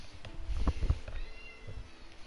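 A house cat meows to be let outside, with a couple of close, insistent cries in the first second followed by quieter room tone.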